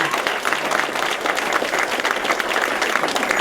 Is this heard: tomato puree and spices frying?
no